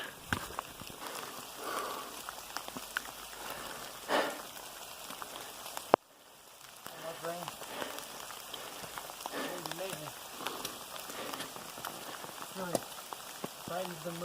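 Rain falling steadily on a hiking trail on the Appalachian Trail, a broad soft patter with scattered drops, briefly cut near the middle, with faint movement sounds close by.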